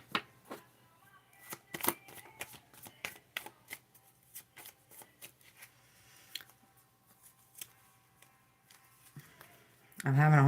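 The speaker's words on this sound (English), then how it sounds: "I'm having a hard time shuffling these cards today." Cards riffled and shuffled in a series of quick, crisp bursts with short pauses between, close up, with a louder clatter at the end.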